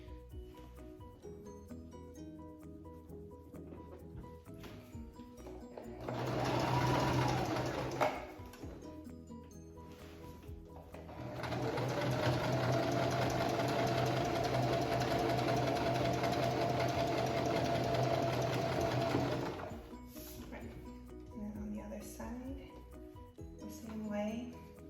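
A sewing machine stitches through layers of fabric for a youth superhero mask, running in two bursts, a short one and then a longer steady whir of about eight seconds, close and clear between quieter pauses.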